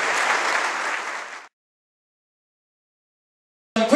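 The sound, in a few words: audience applause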